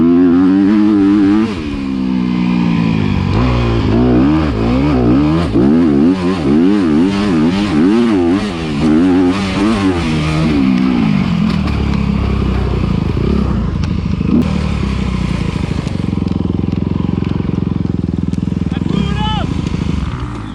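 A blown-up Honda or Yamaha motocross dirt bike engine revs roughly and unevenly, warbling up and down, loud and close, with voices talking over it.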